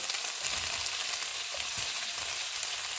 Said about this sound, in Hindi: प्याज डालेंगे और इनको 2 से 3 मिनट तक भूनेंगे।